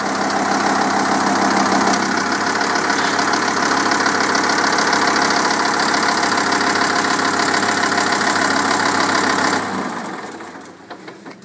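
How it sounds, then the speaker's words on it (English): A 6-inch gravel pump engine runs at a loud, steady idle with a knocking, vibrating drone, close by, then drops away sharply near the end as it winds down. "we just fire them up for about 5-10 minutes, make sure everything's working good"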